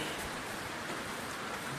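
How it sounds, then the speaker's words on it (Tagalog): Steady rain hisses softly and continuously, a faint, even patter with no other sounds. "Tapos, basa na naman ang ulan."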